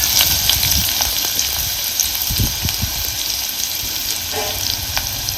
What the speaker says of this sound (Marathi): आता चिरून घेतलेला कांदा घालायचा पातेलं चांगलं गरम झालेलं आहे